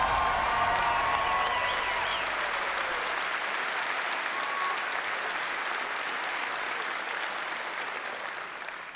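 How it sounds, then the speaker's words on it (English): Sustained audience applause with some cheering at the E3 2015 Bethesda showcase, a large crowd clapping loudly and steadily for the full stretch before tapering slightly at the end. "can I please get another round of applause for that man?"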